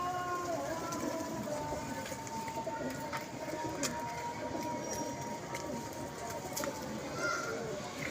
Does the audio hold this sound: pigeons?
yes